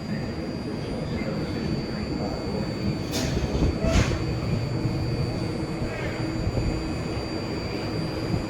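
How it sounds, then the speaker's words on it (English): A BART Blue Line train bound for Daly City runs at Oakland Coliseum station, giving a steady, loud rail rumble and roar throughout, with brief high squeals in the middle and faint background voices. "San Francisco Daly City train now at Oakland Coliseum station"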